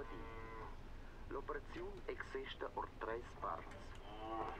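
A cow in the video game Mundaun moos in a long, drawn-out call that dips and rises, heard close and clear over a steady outdoor ambience, with no talking.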